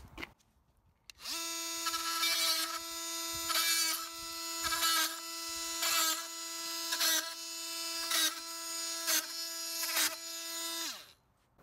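A titanium-coated metal blade on an oscillating multi-tool cuts through brads with a steady high-pitched buzz. It starts abruptly, holds for about ten seconds with small pulses as it bites into the metal, then stops, close up with no talking.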